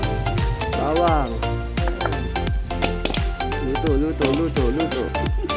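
Garlic fries in a pan outdoors under a bright sun, giving a steady sizzle broken by stirring scrapes, while a voice talks over it.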